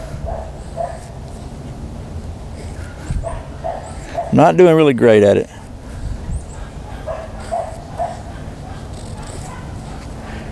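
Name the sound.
dogs barking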